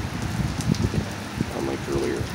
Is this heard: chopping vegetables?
no